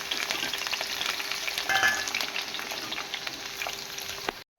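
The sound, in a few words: green chillies and curry leaves spluttering in hot oil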